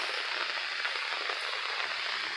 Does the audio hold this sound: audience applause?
no